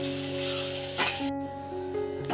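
Boiled potatoes sizzling in hot oil for Maharashtrian chili vada, a steady close crackle and hiss of frying with a brief bubbling burst partway through.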